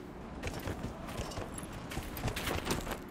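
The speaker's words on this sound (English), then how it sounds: "let's get our horse" Horse hooves clip-clop in a quick, steady rhythm in the fantasy video game Dragon Age: Inquisition, close and fairly loud against a dense background of game ambience.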